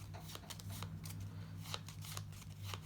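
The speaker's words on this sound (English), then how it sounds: "I'm going to shuffle" Playing cards are shuffled by hand in quick, repeated riffling bursts, soft and close against a low background hum, with no talk.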